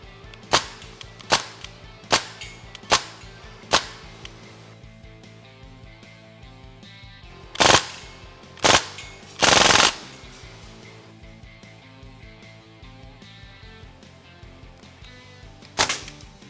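A Crosman DPMS SBR full-auto BB air rifle fires on an indoor range: a string of single sharp snapping shots, then a few louder bursts and a rapid full-auto rattle, close and distinct against a quiet background.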